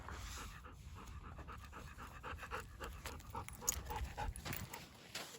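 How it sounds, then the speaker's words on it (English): A dog named Dodger pants steadily outdoors in the desert, quick rhythmic breaths close to the ear with a faint whine here and there. "He's a good dog."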